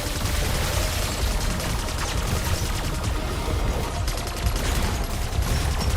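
Continuous rapid gunfire at a zombie in Black Ops 6 Zombies, a dense, loud, unbroken barrage of shots lasting the whole stretch with no pause.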